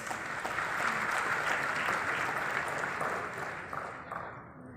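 Steady round of applause from a convention audience at a leadership event, a dense wash of clapping that swells then slowly tapers off toward the end.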